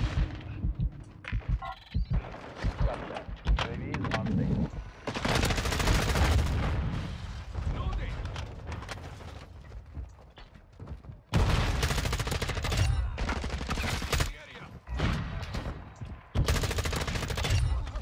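Shotgun fire in Modern Warfare 2 multiplayer rings out in loud, dense bursts of blasts with brief quieter gaps between volleys, up close.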